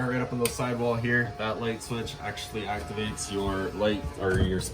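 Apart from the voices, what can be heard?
No everyday noises stand out.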